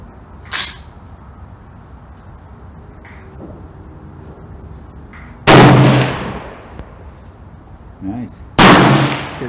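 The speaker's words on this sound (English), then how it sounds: "Okay, here was the second shot." Savage 111 Long Range Hunter rifle in 7mm Rem Mag with a muzzle brake, fired at a range: two sharp, loud shots with echoing tails, plus a smaller pop early on.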